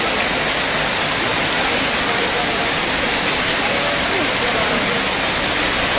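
Heavy rain pours steadily onto a road in Darjeeling during a hailstorm, a dense, continuous broadband hiss that stays loud and close throughout with no pauses.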